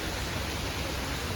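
Steady rain falls outdoors near a bus stop, a dense unbroken hiss filling the whole moment with no voices.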